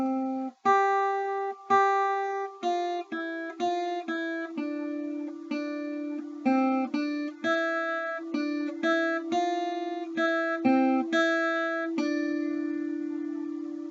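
A single guitar plays a beginner lesson phrase of plucked notes with clear rests between them, closing on a long sustained note; it is close and clean, with no talking.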